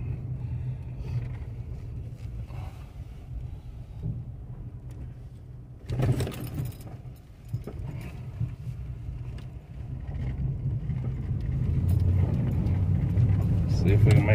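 A vehicle towing a loaded 14-foot dump trailer climbs onto a frozen farm in two-wheel drive on a 17-degree day, its steady engine rumble swelling louder toward the end while someone talks over it.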